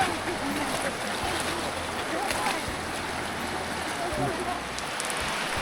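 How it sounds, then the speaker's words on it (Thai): Countryside rain pours down in a steady, faint, unbroken hiss of drops on surfaces, with scattered soft ticks and no clear voice standing out. "บรรยากาศยามฝน หน้าฝนทุกคน"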